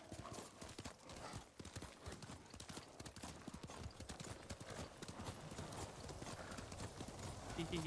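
A horse in Ghost of Tsushima trots with steady clip-clop hooves and gives a whinny, layered under game music and a person talking over it.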